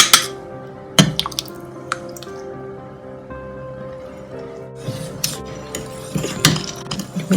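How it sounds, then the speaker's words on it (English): Wet and dry bath melt ingredients stirred together in a bowl, with utensil clinks, scrapes and taps coming in irregular bursts up close and no talking. "Also make sure that everything from the bottom, you stir it up."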